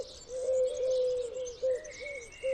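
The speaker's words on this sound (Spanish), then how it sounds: "Una especie que se expandió por toda Europa a lo largo del pasado siglo y cuyos arrullos han conquistado las avenidas y huertos del Palmeral de Elche" A Eurasian collared dove coos among the palm groves of Palmeral de Elche, a few soft, drawn-out hooting notes repeating in a steady series, moderately close in an otherwise quiet outdoor setting.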